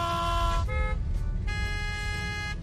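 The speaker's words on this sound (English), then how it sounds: "Why is everyone honking at us?" Car horns honk in street traffic, sounding as two loud, sustained blasts with a short break between them and a low rumble of road noise underneath.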